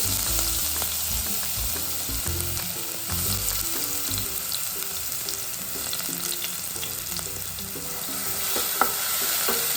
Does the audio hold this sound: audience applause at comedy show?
no